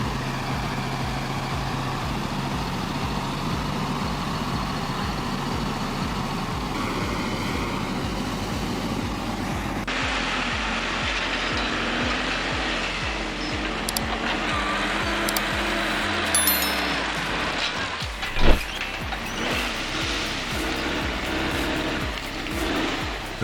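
A logging truck and forestry loader on a slippery red dirt road: heavy diesel engines rumble and labour continuously, with rhythmic pulsing, shifts in tone and a brief louder clank near the end.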